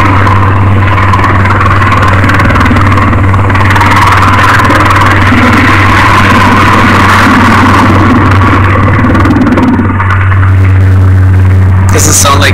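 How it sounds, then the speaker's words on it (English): A twin-engine, four-blade Marine Corps Cobra attack helicopter runs at South Lake Tahoe Airport, with a loud, steady engine whine and low rotor drone filling the scene while people talk nearby. "Doesn't sound like a Huey anymore because of the four rotor blades."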